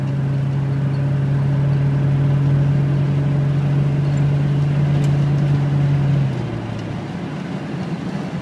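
Engine of a 1996 Jeep Cherokee Sport pulling steadily while driving, a loud continuous droning hum with road rumble that holds for about six seconds, then the pitch drops and eases off as if shifting.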